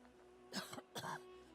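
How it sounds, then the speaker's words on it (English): A woman's violent coughing fit in the Divinity II video game, heard as two close, rough bursts of coughing and throat clearing over a quiet background hum. "She bends over double in a violent coughing fit."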